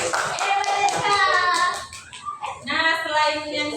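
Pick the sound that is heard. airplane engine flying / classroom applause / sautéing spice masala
classroom applause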